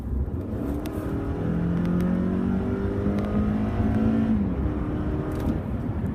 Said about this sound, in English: let's go down to 40 miles an hour and give it the gas and see what happens